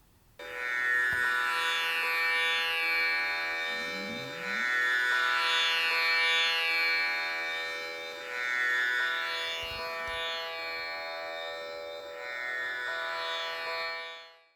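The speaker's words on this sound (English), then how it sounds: "Now in this Shruti box, you will be hearing the fifth note Panchamam also." A shruti box's steady reedy drone sustains for the whole stretch, holding the fifth (Pa) with the tonic, gently swelling and fading as the bellows pump.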